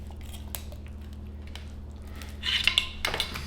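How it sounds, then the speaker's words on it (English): A knife cutting deer meat on a metal baking sheet, faint and steady at first, then a louder metallic scraping and clinking near the end. "we're gonna use a knife on a metal baking sheet"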